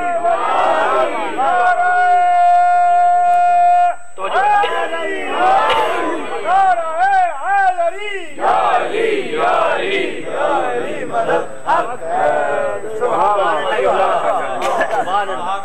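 Audience at a religious majlis chanting slogans of praise in unison, loud rhythmic crowd voices rising and falling in repeated cries, close and sustained throughout.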